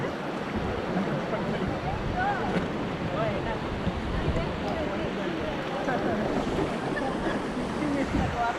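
Rushing river rapids during rafting at Rishikesh, a broad continuous churn of water and splashing with wind buffeting, while voices call out over it.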